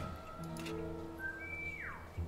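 Whistling in the stealth game War Mongrels, a clear sustained tone that jumps higher and then slides downward, playing over low game music and ambience.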